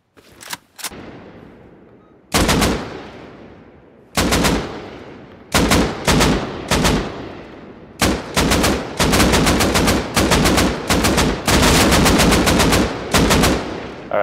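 Rapid bursts of video game gunfire, single shots and automatic volleys, loud and close, coming in clusters with short gaps between them.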